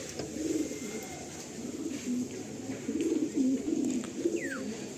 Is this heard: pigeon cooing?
yes